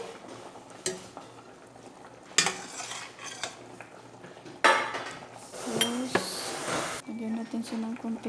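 Utensils scrape and clink against a boiling pot of beef bulalo with a few sharp knocks, onion dropping in, and a soft bubbling underneath; a voice speaks briefly.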